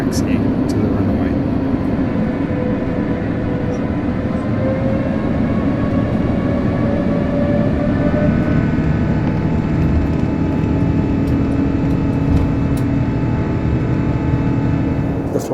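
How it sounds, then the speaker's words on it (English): Emirates Airbus A350 taxiing toward the runway, heard from inside the cabin as a steady low engine drone and rumble with faint rising whine, continuous throughout. "The plane is taxiing to the runway."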